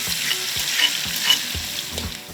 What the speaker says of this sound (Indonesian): Tumis bumbu yang telah dihaluskan hingga harum